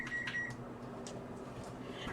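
A home microwave oven's keypad beeps a few times in quick succession, short high electronic tones near the start, followed by faint clicks against a steady room hum.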